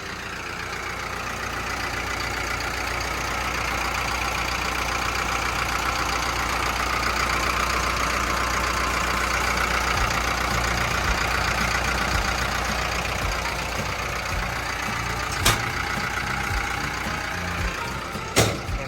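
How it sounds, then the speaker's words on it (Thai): A Caterpillar 924F wheel loader's heavy diesel engine idles steadily nearby, a constant low rumble with a couple of brief clicks near the end. "เดี๋ยวมาเปิดเครื่องยนต์ดูกันบ้างนะครับ"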